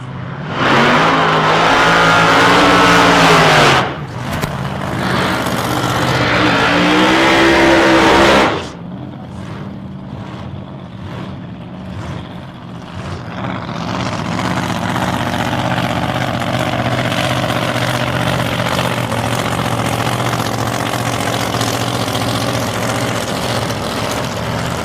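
Red Holden HQ drag racing car at a nostalgia drag meet, its engine blipping and revving loud and close in two hard bursts before settling into a rough, lumpy idle that runs on steadily.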